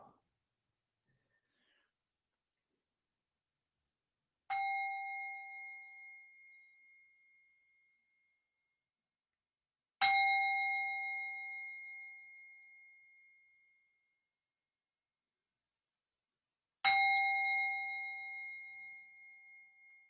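A meditation bell is struck three times, each clear metallic ring sounding alone and fading slowly over several seconds in a quiet room, with long even pauses between strikes.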